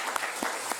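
A church congregation claps briefly during a Korean worship service, a short burst of quiet, steady applause with a few sharper claps standing out.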